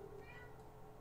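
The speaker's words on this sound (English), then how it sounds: "my cat is howling at the door" A house cat howls and meows insistently at a closed door, wanting to be let in: a single drawn-out, wavering cry that rises and falls over a steady low room hum.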